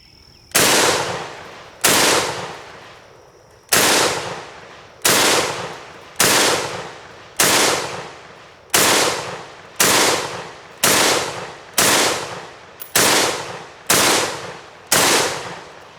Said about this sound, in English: Here we go, a couple more shots.